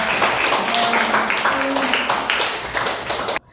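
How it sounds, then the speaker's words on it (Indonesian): A class of children clapping together in a classroom, a loud, steady patter of many small hands that runs for several seconds and then stops abruptly. "anak-anak tepuk tangan buat kita ya"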